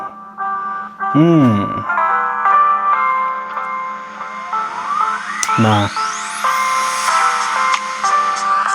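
A tinny, jingly melody plays from a small, quiet Porodo Soundtec Pod Pro portable speaker off an SD card, with brief spoken words over it.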